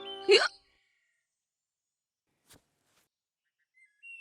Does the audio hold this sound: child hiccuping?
yes